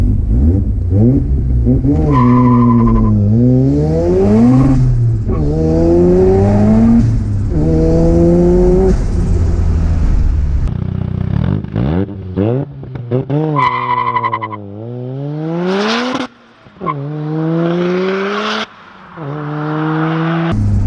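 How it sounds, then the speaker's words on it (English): A 430hp single-turbo Mazda FD RX-7 on a track makes a standing launch, its rotary engine loud and close, revving up in repeated rising sweeps through the gears, then dropping off with tire scrubbing and sharp bursts near the end. "We're gonna do a standing launch for Matthew."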